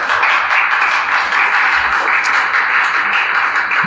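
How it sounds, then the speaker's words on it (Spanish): A congregation claps steadily throughout a church service, a dense, sustained wash of many hands applauding together for nearly four seconds with no voices over it. "Dale una ofrenda de palmas a nuestro Dios"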